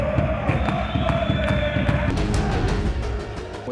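Maccabi Haifa basketball fans, a small group called the Green Apes, roar and chant loudly inside an indoor arena, with rhythmic drum-like thumps and sustained crowd noise throughout.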